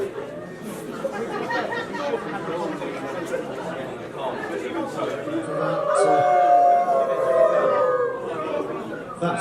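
A crowd at a furry convention closing ceremony breaks into loud collective howling and whooping, layered chatter swelling into sustained wavering howls that fill the hall.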